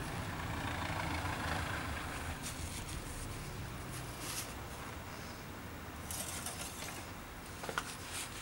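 A car engine idles steadily just after an oil change, a low continuous rumble running throughout with faint clinks and rustles of work nearby.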